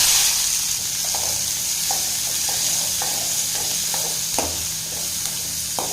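Shallots and mustard seeds frying in hot oil for a Tamil sundakkai kuzhambu, a steady close sizzle with scattered crackles and the scrape of a spoon stirring throughout.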